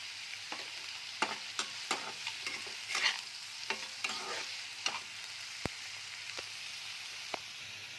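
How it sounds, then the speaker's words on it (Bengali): Onions frying with a little salt in a pan, cooked until reddish, with a steady soft sizzle broken by repeated scraping stirs and clicks of a spoon; no talking. "পেঁয়াজটা আমি ততক্ষণ ভাজবো, একটুখানি যতক্ষণ হচ্ছে লাল লাল রঙ ধরে ততক্ষণ ভাজতে থাকবো।"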